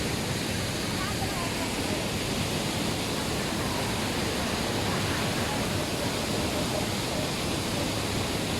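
Morias Falls, a secret-paradise waterfall, pours in a steady, loud, unbroken roar of broadband rushing water that fills the whole scene without pause.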